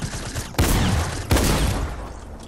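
Two loud, sharp gunshot bursts from a Fortnite weapon, each a sudden blast followed by a decaying roar, with a busy in-game background between them.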